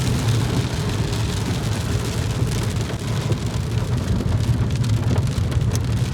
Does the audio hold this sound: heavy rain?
yes